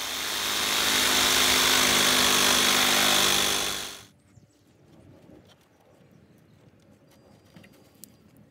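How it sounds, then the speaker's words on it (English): A jigsaw cuts through wood for a home-built tiki bar, giving a loud, steady buzzing roar for about four seconds before it stops abruptly. Only quiet handling noises follow. "Used a jigsaw to cut it nice and smooth."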